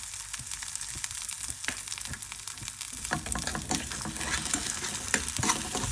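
Diced potatoes frying in a pan with a steady loud sizzle, while a utensil stirs and scrapes through them in quick irregular strokes that grow busier after the first few seconds.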